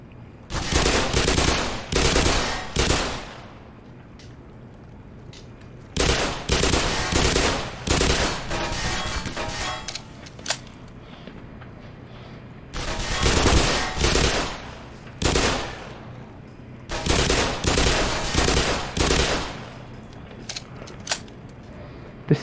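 Repeated bursts of gunfire in Black Mesa during long-range shooting at snipers come in four loud clusters of rapid shots separated by short pauses, with no talk.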